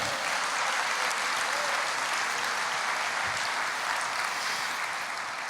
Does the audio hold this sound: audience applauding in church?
yes